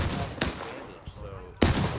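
Gunfire in a Civil War battle skirmish in a video game, with a few sharp, separate shots, some near and some far, breaking through a low background of battle noise.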